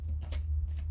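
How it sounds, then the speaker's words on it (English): Tarot cards riffle and slide against one another in quick shuffling bursts, close and crisp, with a low steady hum underneath and no talking. "I'm going to do some little bit more shuffling"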